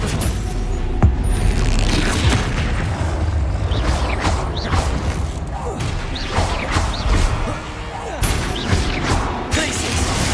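Bombarda and Stupefy spells blasting in Hogwarts Legacy combat, a busy run of loud crashes, booms and thuds in quick succession, with short sweeping whooshes between the impacts.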